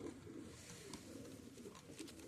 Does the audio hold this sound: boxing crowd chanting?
no